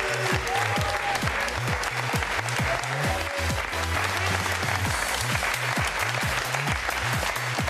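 An audience at a tug of war competition claps steadily and loudly, the dense applause carrying a rhythmic pulse and a few faint cheers throughout.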